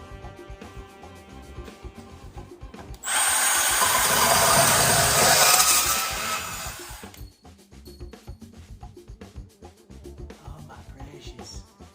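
A Milwaukee M12 Fuel cordless cutter slices through copper pipe in one loud, steady burst of about four seconds, with quieter handling noises before and after.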